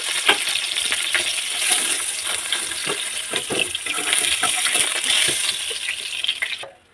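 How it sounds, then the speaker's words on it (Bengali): Pieces of katla fish sizzle and crackle in hot oil, a steady close frying hiss with small pops and occasional clinks as they are lifted out one by one, no talking. "তো মাছগুলো ভাজা হয়ে গেছে, এবার আমি তুলে নিচ্ছি এক এক করে।"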